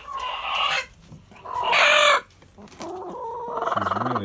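Upset hen clucking loudly and agitatedly after having her egg taken, in bursts of harsh squawking calls with short pauses, ending in a rapid run of clucks, close by and alone.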